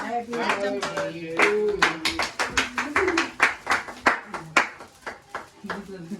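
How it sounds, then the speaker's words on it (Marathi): Repeated hand claps at a little sister's birthday celebration, a steady run of sharp, close claps through the whole stretch, with tonal voices or singing underneath. "भाऊ टाळ्यांचा आवाज"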